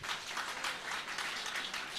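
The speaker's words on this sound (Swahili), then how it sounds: "Simpigeni makofi." A church congregation claps together in a steady, dense patter of applause that holds for a couple of seconds, moderately close and without talk.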